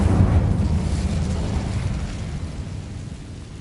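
Incendio fire spell cast in Hogwarts Legacy, a loud whooshing roar of flame that bursts at once and slowly fades over a few seconds.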